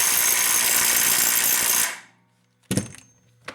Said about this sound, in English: I'll go ahead and tighten this down at 210 foot-pounds